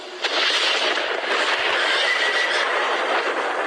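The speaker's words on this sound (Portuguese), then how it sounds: "e viu que ao redor de Eliseu o morro estava coberto de cavalos e carros de fogo." Horses neigh loudly against a dense rushing roar, a dramatized scene of horses and chariots of fire on a hill, with occasional hoof clatter and no pauses.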